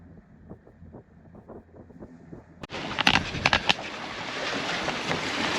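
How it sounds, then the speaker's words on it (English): Sailboat under way on open water during an overnight coastal passage from Galveston to Port Aransas, starting with quiet low rumble, then a sharp jump to loud broadband wind and water rush with gusting buffets on the microphone. "We made it, we're sailing."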